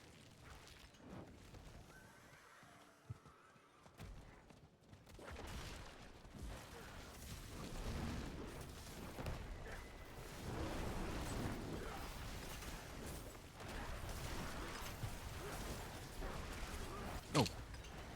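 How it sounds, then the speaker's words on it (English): Explosions from Diablo IV, played as a Companion Druid in Season 8, boom deep and heavy through a dense, rumbling battle soundscape, with one sharp blast standing out near the end. "Let's avoid getting hit by that explosion"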